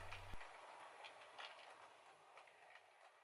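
Model railway train running on a layout circuit, a faint steady rumble with light rhythmic clicking of wheels over rail joints, heard alone at low level.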